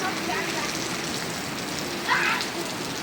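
Rain falls as a steady broadband hiss, moderately loud and continuous, with a brief louder patter near the end.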